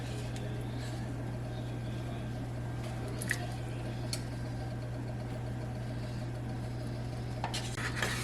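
Butter hitting a hot cooking pan, a steady close sizzle and frying hiss over a low constant hum, with a few small clinks of utensils.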